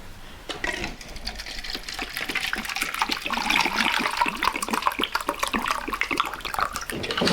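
Hot water poured into a container makes a continuous splashing, gurgling stream that swells slightly as it goes on, close and steady without speech.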